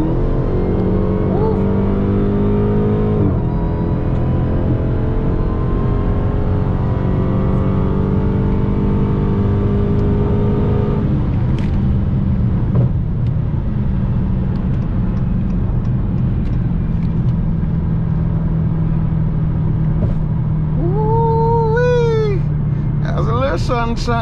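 Dodge Redeye engine accelerating hard, a loud rising roar with gear-shift breaks and a whining supercharger, heard from inside the car under excited talking.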